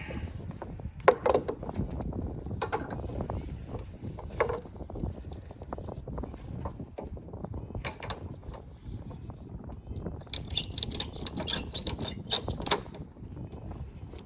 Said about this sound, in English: Put the ratchet strap back.